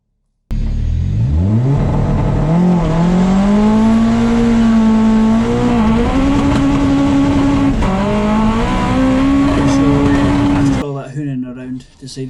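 A K-swapped Mazda RX-7 with a DCT gearbox, welded driveshafts and raised boost launches hard and accelerates, its loud engine note climbing steadily through the revs for about ten seconds before cutting off abruptly.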